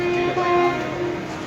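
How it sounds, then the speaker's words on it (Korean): A train pulls into a station in Milan, Italy, with a steady, loud rumble and sustained horn-like tones holding throughout, no talking heard. "기차가 들어왔습니다."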